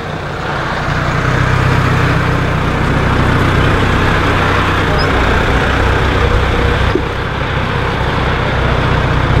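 A brand-new 2017 McCormick X7.450 tractor engine runs steadily at close range on a farm, a continuous low diesel drone with a deep rumbling hum that stays loud and even throughout.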